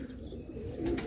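A large silk-feathered pigeon coos softly in a brief, quiet low murmur, with a slightly louder burst near the end and no talk.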